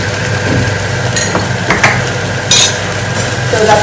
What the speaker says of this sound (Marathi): तर आता इथे सगळे मसाले मस्त मिक्स करून घेते.